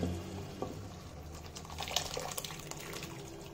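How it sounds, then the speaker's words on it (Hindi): Boiled kidney beans and their cooking water are poured into a simmering masala for rajma, giving a soft, continuous wet splashing and trickling with small drips, fairly quiet and close, with no voices. "राजमा जो हमने उबाला था उसको उसके पानी के साथ ही ऐड करेंगे।"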